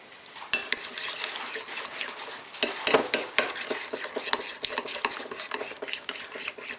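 Tartar sauce is stirred in a bowl with a spoon, giving a close, continuous run of wet scraping and clinking taps against the bowl for several seconds, with no talk.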